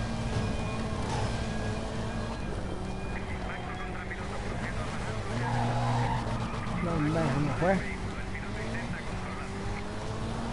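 A turbo car racing in a video game, its engine droning steadily with squealing tire skids building near the end.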